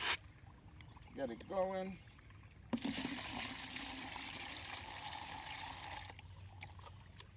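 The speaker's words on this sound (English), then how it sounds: "add me some water in the bottom first" Water pours into the bottom of a concrete mixer while mixing concrete for a brick mailbox. It is a steady rushing splash lasting about three seconds, coming after a brief spoken remark.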